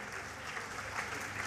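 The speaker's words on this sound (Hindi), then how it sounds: "एक जोरदार ताली के साथ हम प्रोग्राम की शुरुआत करते हैं" Steady, fairly quiet applause from an audience opening a company profile program for DXN, a dense even patter of many hands continuing without a break.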